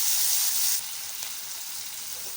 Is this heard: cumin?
yes